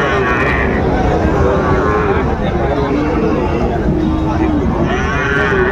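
Cattle lowing repeatedly across a busy Sahiwal bull and calf market in Dinajpur, long drawn-out moos rising over a dense crowd of voices talking and bargaining.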